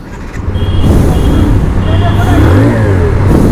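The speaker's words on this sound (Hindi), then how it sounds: "अभी अपन शुरू करते हैं इस बाइक को" A TVS Apache 160 2V motorcycle (2023 model) engine fires up and revs, a loud close rumble that rises and falls throughout, with a voice talking over it.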